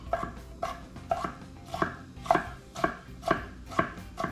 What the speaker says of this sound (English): we are going to rough chop these here pickles